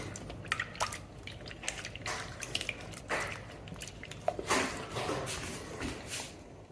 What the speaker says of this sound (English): I like to mix it up with the water as much as possible before adding the flour.